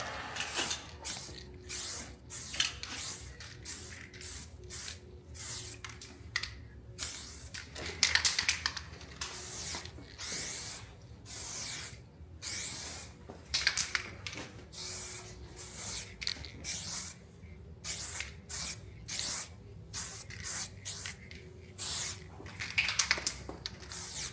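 Paint sprays in short repeated bursts onto the body of a VW Scirocco, each hissing blast separated by brief pauses, close and fairly quiet, continuing in an uneven rhythm throughout.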